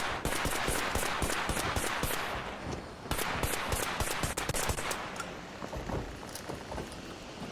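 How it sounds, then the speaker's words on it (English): Rifle fire in an online shooter game, a sniper among the shooters: a fast, steady string of sharp cracking shots, close and loud, continuing almost without pause, with a brief break midway and no talking. "Somebody shooting him with sniper."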